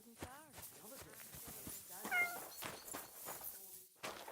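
Cat meowing in the game Kingdom Come: Deliverance II, several short rising meows close by amid other game sounds, with a person talking over them.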